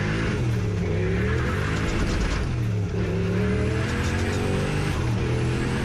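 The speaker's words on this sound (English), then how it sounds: "Well, lots of wheel spin." A 1UZ turbo drag car launches at Santa Pod with heavy wheel spin, producing a dense, continuous engine roar that stays loud and steady throughout, with no voices.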